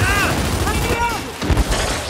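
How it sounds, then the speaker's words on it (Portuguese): Gunfire in the video game Gears 5, a dense run of booming shots and bursts that stays loud through the whole stretch, with game voice lines and music-like tones over it. "Atirando!"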